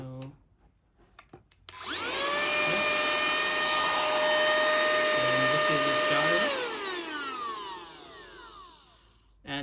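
A cordless, rechargeable mini portable vacuum cleaner starts up after a few handling clicks and runs with a steady, loud motor whine for several seconds, then spins down as its pitch falls away.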